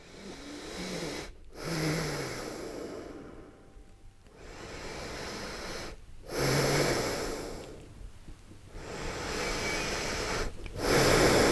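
Slow, deep breaths held during a shoulder and upper-back mobility stretch, long airy inhales and exhales that rise and fall in a calm rhythm, close and alone.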